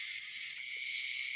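A steady, high, buzzing trill from a cricket at night, close and continuous, with a brief soft knock partway through and no voices.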